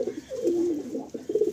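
A close pigeon gives a long, drawn-out coo that dips and swells, followed by shorter coos and a few lighter notes, with no speech; the birds are good-quality pigeons for sale in Kolkata.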